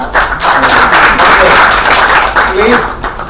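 Audience at an evening stage show clapping together in a loud, continuous burst, with voices speaking over the applause.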